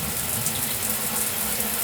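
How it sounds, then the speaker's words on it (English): Water from a shower runs in a steady, dense hiss, loud and close, unchanging for the whole couple of seconds with no voices. "I get to take a calm and clean shower with running water"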